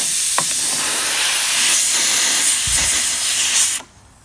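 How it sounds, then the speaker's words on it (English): Compressed air hisses loudly and steadily into a car tire through the valve after the bead is seated, one continuous rushing stream that cuts off abruptly near the end. "Go ahead and put my valve core back in and then fill it up to the correct spec."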